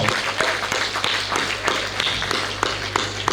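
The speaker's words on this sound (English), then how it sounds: "please give the boys a big round of applause" Audience applause for the boys at the Gambia Revenue Authority taxpayers awards ceremony, dense ongoing clapping from a crowd with a low steady hum underneath, fairly loud and continuous.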